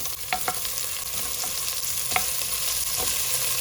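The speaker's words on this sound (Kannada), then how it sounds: "ಈರುಳ್ಳಿ ಫ್ರೈ ಆದಮೇಲೆ ಕುರಿ ಕಾಲು ಹಾಕ್ತಾ ಇದ್ದೀನಿ" Mutton legs frying with native onions in oil in a pan, a constant close sizzle with a few sharp taps and scrapes of a stirring spoon, no voices.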